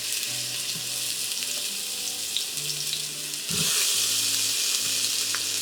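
Onions browning in oil in an Instant Pot on its saute setting, a steady soft sizzle and crackle close by that grows slightly louder and brighter partway through, with faint low hum underneath.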